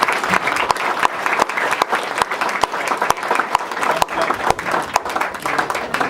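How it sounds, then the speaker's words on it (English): An audience at a roundtable talk show applauds the guests, steady dense clapping throughout with a few louder individual claps near the front. "How about a round of applause for these gentlemen before they get out?"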